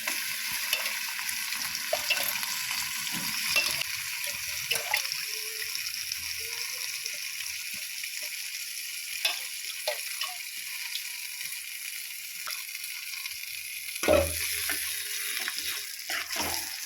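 Turmeric and mutton liver frying in oil, a soft continuous sizzle with scattered pops and occasional stirring scrapes and clinks, fairly close and steady throughout.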